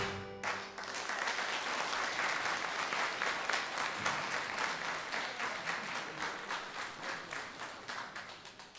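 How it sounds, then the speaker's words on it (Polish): An audience applauds after a brass band concert of patriotic songs, a dense wash of clapping that starts abruptly, holds strong for several seconds, then gradually thins. "Brawa oczywiście się należą"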